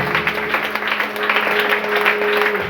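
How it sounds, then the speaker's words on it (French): Church congregation clapping in praise, a steady dense wash of applause filling the whole moment, with a sustained tone humming underneath and no clear voices on top. "Acclamez le Seigneur."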